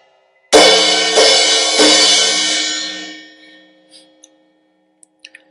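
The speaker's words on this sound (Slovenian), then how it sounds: "Crash činela takole." A crash cymbal from a drum kit is hit three times in quick succession, giving loud bright splashes that blend into a long wash and fade over about two seconds, then a few faint clicks.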